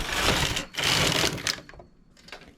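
A domestic knitting machine carriage sweeping across its needle bed while making a cable-stitch pattern, giving long, loud, close mechanical rattling runs with a short pause between them, then fading into lighter clicks; no voices.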